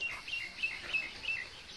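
Birds chirping in a village in the afternoon, a run of short high tweets repeating every few tenths of a second at moderate distance over quiet rural background.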